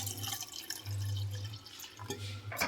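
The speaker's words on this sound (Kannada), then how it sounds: "ಇದಕ್ಕೆ ವಾಶ್ ಮಾಡಿದ್ದೀನಿ, ನೀರು ಹಾಕ್ತಾಯಿದ್ದೀನಿ." Water poured over washed toor dal and moong dal for khichdi, a close, steady trickling stream with drips that pauses briefly and resumes, heard alone without talk.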